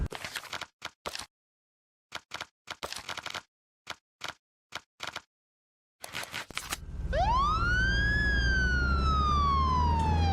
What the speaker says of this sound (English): There's a siren button.